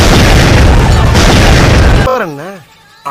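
A loud, rumbling explosion sound effect fills the first two seconds, then cuts to a voice speaking in a rising and falling tone.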